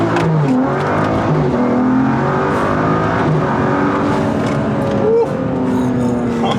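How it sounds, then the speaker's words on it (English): A big-turbo BMW F30 335i pulling hard through first gear, its engine note climbing steadily in pitch and loud close up, with a quick shift near the end. "I really want to try like a first gear pull."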